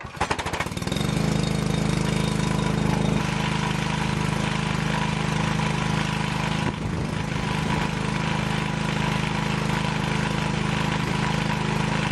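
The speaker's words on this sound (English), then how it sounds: "So I'm going to try to flush them out with the pressure washer." Pressure washer running steadily while flushing out a Saab 900 fuel tank, a loud continuous motor drone with a constant spray hiss over it.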